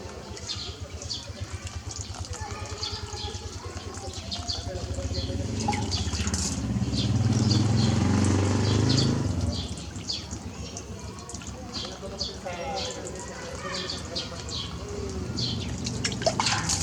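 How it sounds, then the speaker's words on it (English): Steady watery rushing and gurgling as water enters the impeller of an old jet pump being primed, swelling louder in the middle then easing back, with small drips and splashes throughout. "As you can hear, water is going into the impeller."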